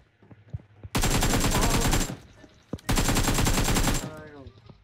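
Automatic gunfire in PUBG Mobile: two sustained, loud bursts of rapid shots, each lasting about a second, with scattered single shots and faint sounds between them.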